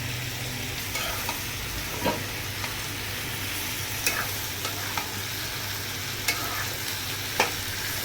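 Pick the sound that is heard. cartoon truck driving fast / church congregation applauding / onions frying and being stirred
onions frying and being stirred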